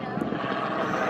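A helicopter in Rio de Janeiro makes a steady, close engine drone with rotor chop, brief and continuous.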